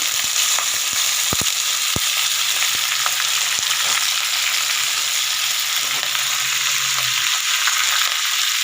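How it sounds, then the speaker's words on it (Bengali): Washed, drained spinach frying in a hot pan for a milk-based vegetable dish, with a loud constant sizzle and several sharp clicks of utensil against pan early on. "এই যে পালং শাক পালং শাকটা আমি ধুয়ে গুছিয়ে জল ঝরিয়ে রেখেছি এবার আমি দিয়ে দেব"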